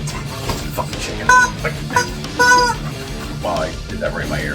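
A chicken clucks in short, sharp bursts around a garage or repair area, near and fairly loud over a steady low background hum, with a person's voice and other movement noises mixed in.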